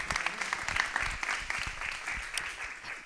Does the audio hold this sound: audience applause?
yes